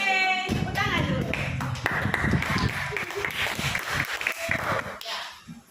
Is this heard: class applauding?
yes